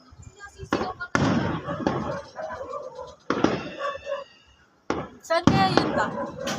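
New Year's Eve fireworks and firecrackers burst in sharp, loud bangs separated by short gaps, with people talking and reacting between the blasts.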